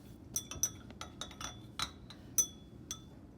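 Glass rod or stirrer clinking against a glass flask while a solution is stirred during an acid-base titration, a series of light, irregular clinks with quiet gaps between them.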